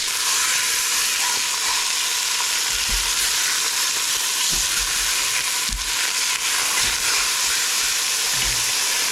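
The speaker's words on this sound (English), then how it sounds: "we'll go ahead and brown that chicken on both sides" Chicken browning in a pot for tortilla soup, a steady, dense sizzle and hiss of frying with a few faint knocks underneath, continuous and fairly loud, with no voices.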